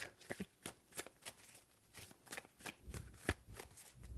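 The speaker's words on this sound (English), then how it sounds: "Three shuffles." Tarot cards being shuffled close by, a quiet run of quick riffling flutters and soft slaps in an irregular rhythm, with no talk over them.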